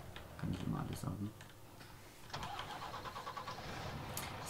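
A truck engine in Farming Simulator 19 cranks and starts, settling into a steady idle with some ticking, while a voice talks over the start.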